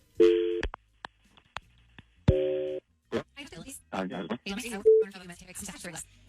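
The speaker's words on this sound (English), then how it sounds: "Let's make the phone call right now and see who he sends the roses to" Telephone call signal on a radio show: two loud, clear electronic tone bursts near the start, separated by a short gap, followed by people talking.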